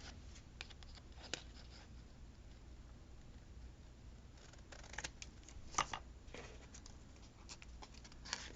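Scissors trim the excess off a paper botanical cluster. Quiet, close snips and paper rustles come in scattered bursts, with a denser run of cuts midway through.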